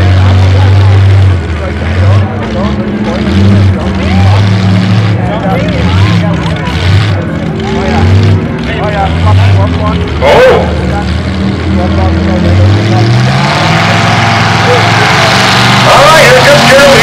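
A mud bogging truck's engine roars and revs loudly at a mud bog event, the pitch rising and falling in long surges with a sharp burst near the middle, while a crowd and announcer talk over it.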